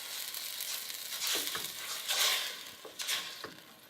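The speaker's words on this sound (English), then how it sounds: "We add a cup of wine." Wine is poured into a hot pan of tomato paste and stirred, producing a steady hissing sizzle with scraping stirs and a few soft clinks of utensil against pan, fairly quiet and close.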